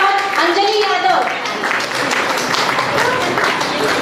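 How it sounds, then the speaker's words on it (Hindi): Loud, sustained audience applause rings out for the girls at an Arya Veerangana training camp, with someone speaking over the clapping at the start. "अपनी तालियों को प्लीज बजाते रहिएगा"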